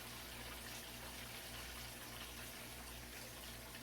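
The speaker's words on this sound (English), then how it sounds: "I'm going to just put enough water in here to cover the pump so we can get it working" Water gushing steadily into the tank of a LetPot LPH-Max smart garden, a constant close hiss of pouring liquid with no pauses and no voices.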